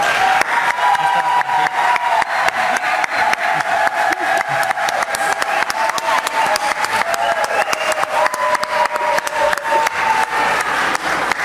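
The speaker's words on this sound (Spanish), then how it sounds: "vamos a recibir con un cariñoso aplauso a Geraldina." A crowd claps steadily for several seconds, a dense patter of applause with a faint tonal voice or note running underneath.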